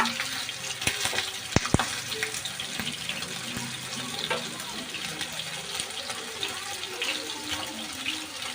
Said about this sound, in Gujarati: તો એક સાઈડ ફૂલ ફ્રાય થઈ જવા દઈશું